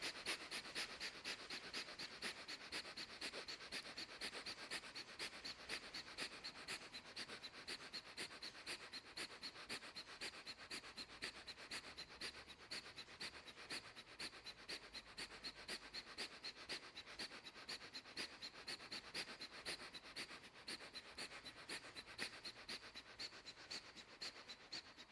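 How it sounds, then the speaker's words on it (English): Breath of fire in a yoga class, rapid rhythmic pumping breaths through the nose, a steady airy hiss pulsing evenly and without pause for the whole stretch, fairly faint. "breath of fire"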